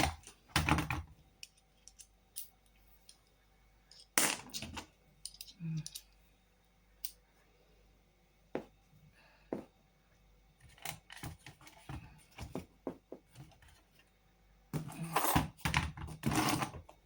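Screws are undone from a worn Renault Captur heater and blower control knob assembly, heard as sparse, sharp little clicks and taps scattered across a quiet background, with a few denser clusters.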